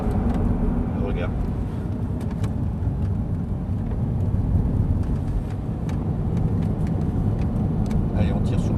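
An Audi R8's engine roars steadily as the car accelerates on the Lohéac track during a driving course, a constant loud drone with an instructor talking over it.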